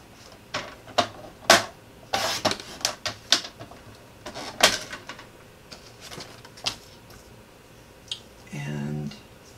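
Paper cutting on cardstock for a handmade friendship card shows up as a series of sharp, close clicks and snips at uneven intervals, followed by a short scraping slide near the end.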